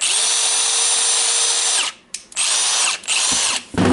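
A Milwaukee M18 CBLID brushless impact driver spins up loud and close after cleaning and repair, a high steady whine running for about two seconds, then several shorter bursts with brief stops and trigger releases.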